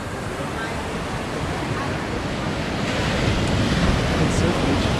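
Ocean surf washes in continuously at Batu Bolong beach in Bali, a broad steady roar of breaking waves with wind noise that swells slightly louder toward the end.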